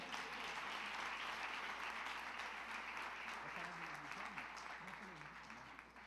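A church congregation applauding during a celebration service, continuous clapping with a voice speaking or singing underneath, gradually easing toward the end.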